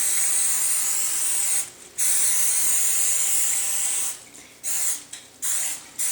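A can of 100% canola oil Pam cooking spray hisses over the top of homemade bread dough in a few bursts: a long spray, a short pause, another long spray, then quick short spritzes, close and fairly soft.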